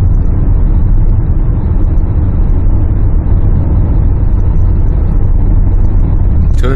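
A 2019 Hyundai Santa Fe TM fitted with an aftermarket additive accelerates on the road. Its engine drones loud and steady from inside the cabin over a continuous low rumble of road noise.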